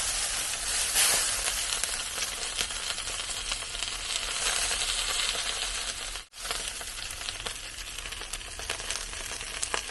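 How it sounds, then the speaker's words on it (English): Steady sizzling and hissing from beef ribs cooking low and slow on a Hellrazr Yama pellet smoker while being spritzed, with a constant crackle and a brief dip in the noise partway through. "I'm just going to give them another spritz."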